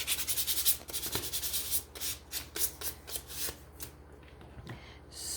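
Sandpaper rubbing a wooden pumpkin craft piece, a brisk run of short scratchy strokes close up, steady at first and then thinning into a few separate rubs near the end.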